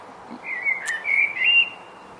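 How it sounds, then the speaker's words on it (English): An outdoor bird gives a short run of clear whistled calls, three or four rising and falling notes within about a second. The calls are near and distinct against a quiet background. "that's the bird, that's the sign."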